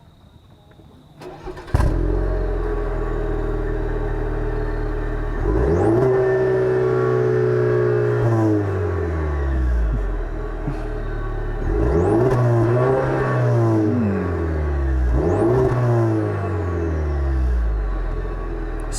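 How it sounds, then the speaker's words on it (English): A 2020 Cadillac CT4-V turbocharged four-cylinder catches on start-up, settles into a steady idle, then blips up through three or four sharp revs that fall back each time, loud and close with no talk. "let me fire up that engine and hear how it sounds real quick"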